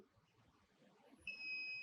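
Continuity tester beeping on the supply pins of a mobile phone, a faint steady electronic tone that starts partway through over low background noise.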